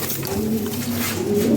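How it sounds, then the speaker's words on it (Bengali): Fancy pigeons coo in low, soft, continuous murmuring tones, close and steady, with no talking over them. "অনেক সুন্দর কবুতর"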